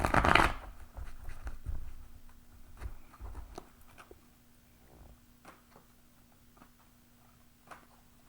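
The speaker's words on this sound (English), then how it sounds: "Let me shuffle them 2 more times." Psychic Tarot Oracle cards being shuffled by hand: a dense riffle burst at the start, then scattered soft slides, taps and rustles that thin out and fade toward quiet.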